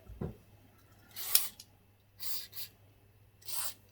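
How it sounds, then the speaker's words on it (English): Several short hissing bursts of an aerosol penetrating lubricant spray on a Suzuki DR200SE motorcycle, close by, separated by brief pauses with a faint click between them. "This spray you're using for Forge is absolutely awesome."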